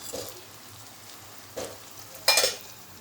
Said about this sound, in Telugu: ఉల్లిగడ్డ వేగుతుంది ఫ్రెండ్స్ గరం మసాలా వేసుకుంటున్నాం